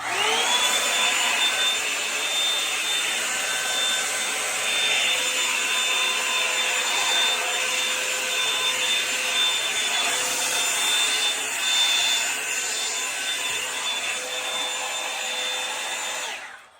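A hair dryer brush on its cool setting blows loudly and continuously with a steady whirring rush of air, cutting off abruptly at the end.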